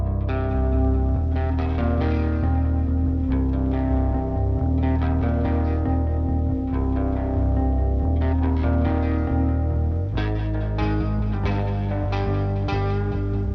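Thick, heavily distorted electric guitars chug through sustained power chords over a deep low end, loud and dense with a brief change near the end.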